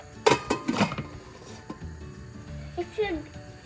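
A pressure cooker lid being closed and locked onto the pot after tomato soup ingredients go in, giving a few close metallic clanks and a short scraping twist, fairly loud.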